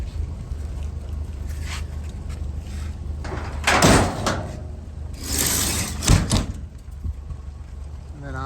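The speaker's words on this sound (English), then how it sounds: "Tailgate." A 1987 Toyota one-ton pickup's tailgate is worked open or shut, giving a couple of loud metallic clunks and rattles up close over steady outdoor background noise.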